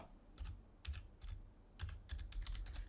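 Keys clack on a computer keyboard as a character name from a Roblox Friday Night Funkin guessing game is typed, arriving in quick irregular bursts of close, crisp clicks separated by brief pauses.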